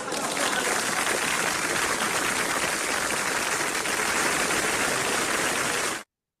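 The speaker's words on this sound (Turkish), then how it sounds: "Alkışlar sizler için gelsin." Applause sound effect played over the opening of a Turkish exam-prep math lesson: a steady, dense wash of many hands clapping at even loudness for about six seconds, then stopping abruptly.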